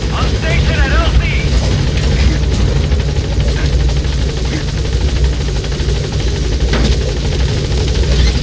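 Helicopter in Metal Gear Solid V: The Phantom Pain, a steady loud rotor and engine drone filling the whole stretch, with voices and radio chatter over it and faint gunfire-like bursts.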